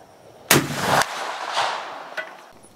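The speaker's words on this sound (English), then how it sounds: "Now I'm going to try some black powder rounds" Mauser 71/84 rifle firing a black powder cartridge outdoors: a single sharp, loud report followed by a rolling echo that decays over about two seconds, with a faint later thump.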